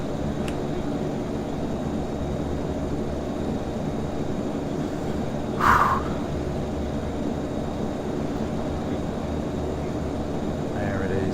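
A single-engine propeller plane comes in to land in the Prepar3D v5 flight simulator, its engine a steady, even drone that holds throughout, with one brief sharp chirp partway through.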